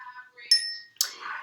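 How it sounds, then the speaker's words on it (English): A bell rings indoors with a bright ding and a short fading ring, followed by a brief noisy clatter, close and fairly loud with no talking. "there go that bell ringing again"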